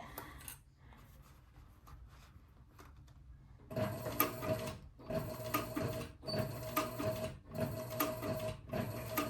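A Cobra leather sewing machine stitches with 138 thread and a size 20 needle on a leather sport shooting bag, running in several rhythmic bursts of close, mechanical clatter separated by brief pauses, after some quieter handling at the start.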